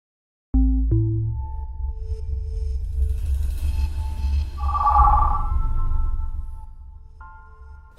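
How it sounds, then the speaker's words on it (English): A telephone rings in the hacking game Cyber Manhunt, a sustained electronic ringtone tone with shifting pitch over a low humming drone, steady and moderately loud, with no talking. "Finally, you've answered the phone."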